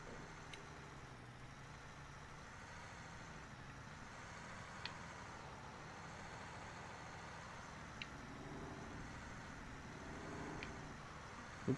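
A tractor's engine in Farming Simulator 19 drones steadily as it drives, a low, even rumble with faint periodic clicks over nearly twelve seconds, quiet throughout.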